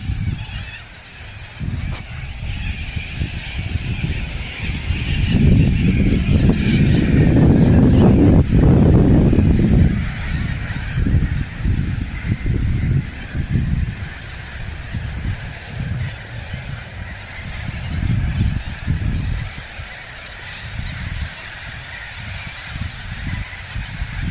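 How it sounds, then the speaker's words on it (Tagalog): Many birds call at once over a steady windy roar in Australia, a dense chorus of honking cries that swells in the middle and then continues. "Ibon, dami."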